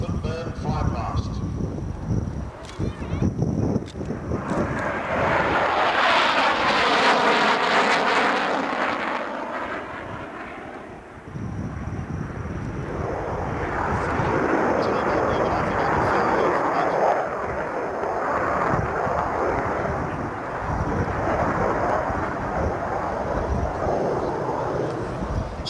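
An RAAF F-111 jet makes a loud fly-past at the Fairford airshow, with a swelling, sweeping engine roar that peaks and fades and then a rumbling tail; a commentator talks over it.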